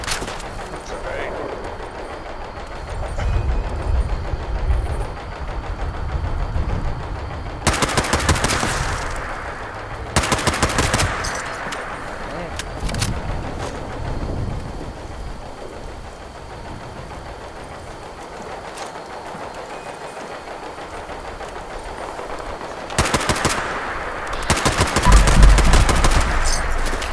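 Automatic gunfire from Fallout 76 player-versus-player combat, rattling in several sustained bursts separated by quieter stretches, loud and close with a lingering mechanical rumble between volleys, players talking throughout.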